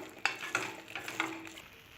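Rice being fried in oil in a pan, with a few sharp stirring scrapes over a soft, steady sizzle; no voices.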